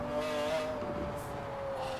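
A car engine in the video game Forza Horizon 4 hums steadily with a sustained tonal whine, smooth and continuous at a moderate, slightly distant level.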